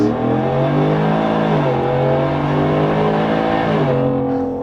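A Ford F-150 truck engine revs hard and accelerates, a loud sustained roar with rising and falling pitch through gear changes, close and continuous with no talk.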